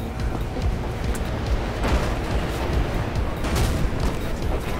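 Gunshots in the parkour game Mirror's Edge sit within a dense, rumbling action soundscape, with scattered sharp cracks over a steady loud roar and no talk.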